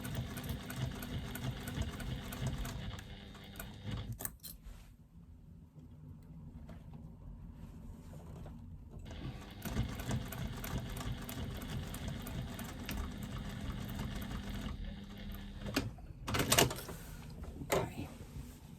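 A sewing machine with a size 16 universal needle stitches binding onto a bulky caddy, a close, steady mechanical whir. It runs in long stretches broken by brief pauses and a few sharper clunks.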